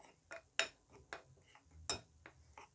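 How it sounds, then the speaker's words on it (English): A utensil clinks and taps against a bowl while ingredients are mixed into all-purpose flour: a handful of sparse, sharp, quiet knocks with near silence between them. "I'm just going to mix everything into it."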